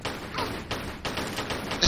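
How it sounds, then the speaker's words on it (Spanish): Grenade blasts in Tomb Raider IV, heard as a rapid series of loud, dense bursts and thuds repeating roughly every few tenths of a second, close and with no talk. "Las granadas hasta nos atraviesan."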